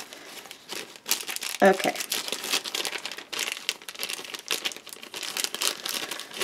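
A strand of ribbon trim with little pom-poms is pulled out of a cute crinkly bag, giving close, busy crinkling and rustling that runs throughout, with a brief spoken word early on.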